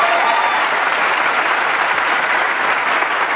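Live audience at a Hindi stage show gives loud, sustained applause as guests come up on stage, a thick unbroken wash of clapping.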